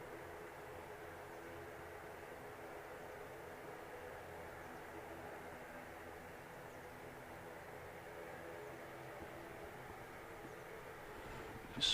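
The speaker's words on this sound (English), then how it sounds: "noisy little prop, the angry little thing. Like I said, it's an ATR 76 going back to Belfast." An ATR turboprop airliner taxiing at Manchester Airport gives off a steady droning propeller hum at moderate distance. The drone holds evenly for the whole stretch, with a brief louder bump at the very end.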